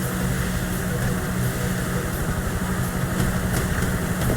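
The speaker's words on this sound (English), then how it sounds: "Chopper, right behind us!" A helicopter approaches in Grand Theft Auto V during a train derailment chase, its dense rotor and engine drone filling the scene at a steady, loud level with no speech.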